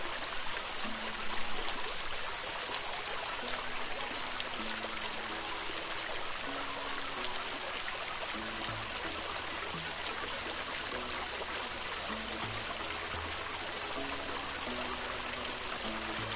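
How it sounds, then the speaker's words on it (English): Water runs steadily into a tank in a PLC-controlled pump system with a pressure sensor, a continuous rushing trickle with a low pump or motor tone that shifts pitch underneath. "we see that it begins to fill the water until it reaches the high level."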